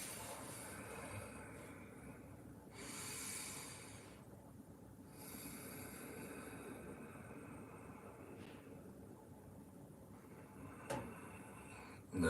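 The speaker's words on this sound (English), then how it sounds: "I'm doing something called Ujjayi pranayama, where there's a slight restriction in my vocal cords, creating a sound as I breathe in and out." Ujjayi pranayama breathing with a slight restriction in the vocal cords gives slow, soft, hissing breaths in and out, quiet and close, separated by long pauses.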